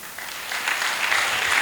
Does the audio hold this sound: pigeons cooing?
no